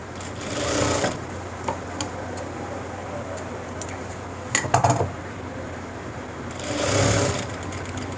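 A sewing machine stitches a school uniform coat in bursts, a longer run at the start and again near the end, with a few short clicks and taps between, close and fairly loud.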